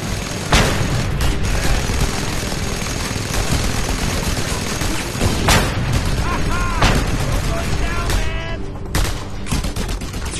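Mounted gun firing in the game Just Cause 2: dense, continuous bursts of gunfire with booming impacts throughout, loud and close, with shouted voices mixed in.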